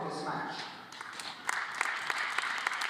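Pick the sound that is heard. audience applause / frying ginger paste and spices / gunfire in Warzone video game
audience applause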